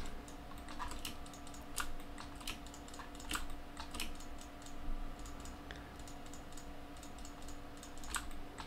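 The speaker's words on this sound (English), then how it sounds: "Just clicking away, clickety clack" A computer keyboard and mouse click and clatter steadily in quick, irregular bursts. The sound is close but quiet, with a faint hum behind it and no one talking.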